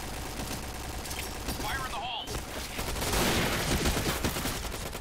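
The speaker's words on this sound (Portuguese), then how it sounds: "Ah, tomei tiro de algum lugar agora, cara." Gunfire in the online shooter game Point Blank: dense fusillade of rapid shots and machine-gun bursts, loud and continuous over a game soundscape, growing heavier toward the end.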